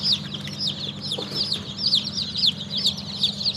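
Newly hatched healthy chicks, already dry, chirp in quick high repeated peeps over a steady low background hum, a busy chorus heard close up.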